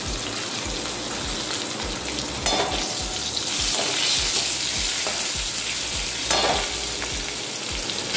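Green chillies sizzle and fry in hot oil, a dense steady crackle with occasional spattering bursts and stirring, close and continuous with no talking.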